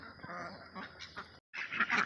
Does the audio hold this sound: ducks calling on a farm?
yes